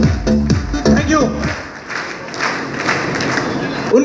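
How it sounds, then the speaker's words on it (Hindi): An audience bursts into applause at a motivational speech event in Aligarh. A speaking voice comes first, then the clapping swells into a steady, fairly loud wash that lasts to the end. "और मैं चाहता हूं एक बार खड़े होकर के श्रीमान डिगेल सर के लिए जोरदार ताली होनी चाहिए।"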